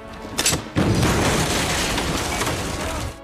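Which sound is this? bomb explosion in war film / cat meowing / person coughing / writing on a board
bomb explosion in war film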